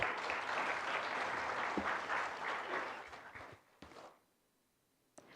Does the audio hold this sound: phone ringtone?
no